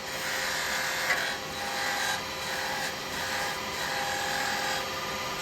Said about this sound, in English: Come in with the bevel and cut the bevel in.